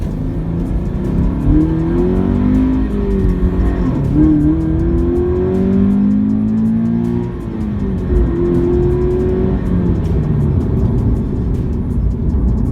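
Subaru BRZ with the performance pack accelerating hard, its engine revving up through rising pitch sweeps, dropping on shifts and climbing again, loud and close for several pulls.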